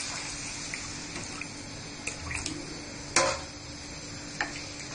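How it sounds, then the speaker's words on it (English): Hot water poured onto fried rice in a pot for biryani, a soft continuous pour with a few light clinks and taps, no talking. "Now to this I am going to add this hot water."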